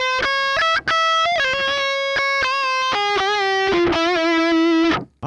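Two solo licks are played back to back on a heavily distorted electric guitar: quick picked notes, then sustained bent and vibrato notes, loud and alone with a short gap near the start.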